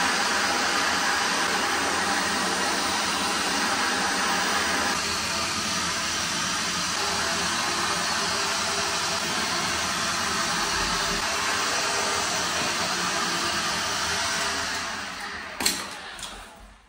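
A heat gun blows a steady, loud hiss of hot air across the surface of a tiled walk-in shower during leak repair work, running continuously before winding down, followed by a brief clatter near the end.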